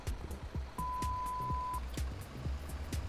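Reversing beeps from a concrete mixer truck in the construction game Bau-Simulator 2015: a steady run of sharp beeps over a low idling engine rumble, close and fairly loud.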